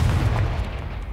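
A Confringo fire spell in the Hogwarts Legacy game erupts as a loud, sustained boom with heavy low-end rumble that fades slowly over about a second, heard alone with no voices.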